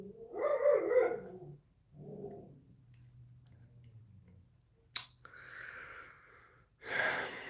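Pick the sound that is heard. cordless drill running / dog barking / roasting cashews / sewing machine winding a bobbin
dog barking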